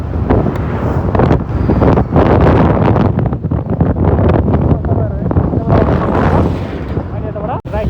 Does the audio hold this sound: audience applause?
no